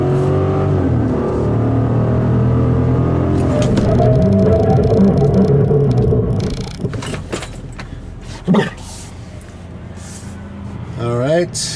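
A 2015 Chevy Silverado with a 6.2L V8 pulls hard under acceleration, its loud engine note climbing steadily for about six seconds before dropping off. A sharp clunk follows, then a rising whine near the end.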